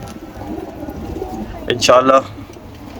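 A clean, well-kept pigeon coos once in a short rolling burst near the end, close by, over steady background hiss, with a voice speaking briefly around it.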